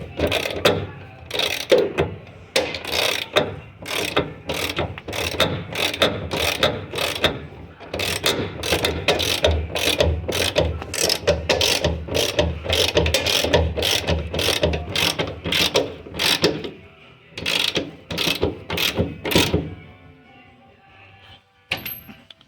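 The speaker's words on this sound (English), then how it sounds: "I'm going to be holding that wrench still and working this ratchet until that bolt is all the way threaded." A hand ratchet clicks in a long, rapid run of sharp, close strokes while threading a leaf spring bolt on a 1966-1967 Ford Fairlane, pausing briefly near the end.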